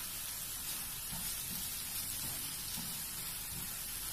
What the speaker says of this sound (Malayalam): കാൽ ടീസ്പൂൺ മഞ്ഞൾപ്പൊടി ഇട്ടിട്ടൊന്ന് വഴറ്റിയെടുക്കാം